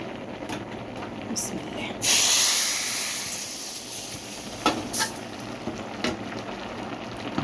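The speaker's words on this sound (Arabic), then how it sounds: "ودي البهارات بعد ما اتحمصت في الزيت وريحتها طلعت، هاجي بقى انزل بيها على المكرونه" Hot oil with toasted spices poured over boiled pasta, a sudden loud sizzle that flares up and then fades into a steady hiss, with brief talk over it.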